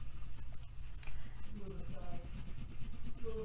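Soft, steady scratchy rubbing of a watercolor pencil coloring across paper, close and quiet, with faint voice-like tones drifting in the background.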